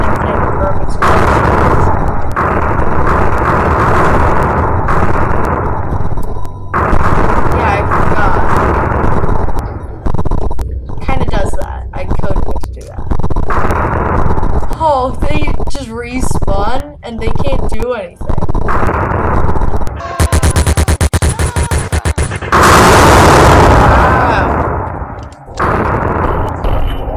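Rapid gunfire sprays in a Unity Battle Builder video game battle, dense repeated bursts running almost nonstop under ongoing talk, with sharper louder volleys near the end.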